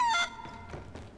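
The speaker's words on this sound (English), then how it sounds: "the chicken just clucked in there" A chicken in the Sea of Thieves video game gives a short, loud, honking cluck up close. Faint dull knocks follow under it.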